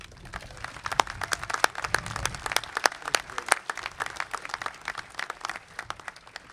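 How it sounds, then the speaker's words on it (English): An outdoor Memorial Day ceremony crowd at a veterans memorial gives a round of applause, with dense scattered claps at moderate distance, steady for several seconds before gradually thinning out. "Can I please get a round of applause for Mark Bailey?"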